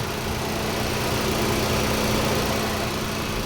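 A 2012 Nissan March car engine idles steadily and smoothly, a constant low hum with no revving or talk.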